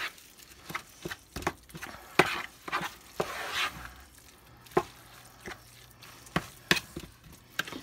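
Ground meat for meatloaf burgers is mixed by hand in a bowl, making a run of soft, wet squelches and slaps at an uneven rhythm, close by and with no talking.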